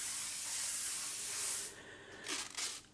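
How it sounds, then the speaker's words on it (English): A spray gun lays down very light coats of raw pearl blue paint for ghost flame artwork, giving a steady close hiss that cuts off, then returns in a few short bursts. "I'm spraying really, really light."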